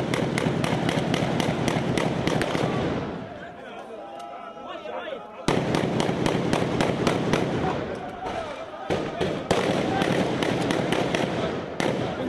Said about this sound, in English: Then, taking it in turns, they fire one by one inside the house.